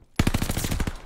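Machine gun fire in the Call of Duty: Vanguard beta on PS5, a single close, loud burst of rapid automatic shots at a steady fast rhythm, lasting about a second.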